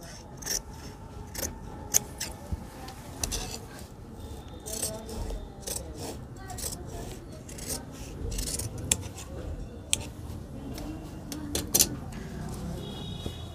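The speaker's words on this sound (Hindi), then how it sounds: "तो ये राउंड वाली हम काट रहे हैं, मतलब हल्की सी सेब है आस्तीन में।" Scissors cut a rounded curve into the sleeve fabric of a men's kurta. Repeated crisp snips and fabric rustles sound up close for over thirteen seconds, with faint speech here and there.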